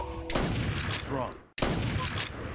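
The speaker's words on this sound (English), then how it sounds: "Doesn't hear the gunshots?" Rapid bursts of gunfire in Metal Gear Solid 3: Snake Eater crackle in dense volleys, with a brief dropout before the shooting resumes at full, close volume.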